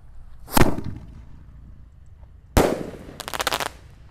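Two sharp firecracker bangs in bamboo a couple of seconds apart, the second followed by a rapid crackling burst, loud and outdoors in Indonesia with no voices.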